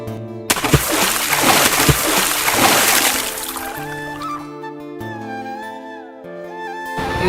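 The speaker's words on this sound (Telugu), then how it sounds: "ఇవన్నీ ఫ్రెష్గా కడగడానికి నీళ్ళలో కడుగుతాం" Fresh raw mangoes splash and slosh as they are washed in water for Telangana mango pickle, loud and close for about three seconds, then settling into quieter sloshing as voices talk over it.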